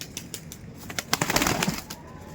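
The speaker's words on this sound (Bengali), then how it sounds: "এই যে ছিল পায়রা আপনারা দেখতে পাচ্ছেন" Pigeons in a loft, Giribaz flying pigeons, making soft scattered coos and bird calls with a few wing flaps, fairly close but low in level, no talking.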